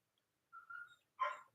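A pet dog barks indoors, asking to be let out: two separate short bursts, the first a thin whining yelp, the second a louder rougher bark, moderately close in a quiet room.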